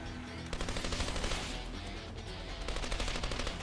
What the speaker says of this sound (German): Ein scheiß Maschinengewehr.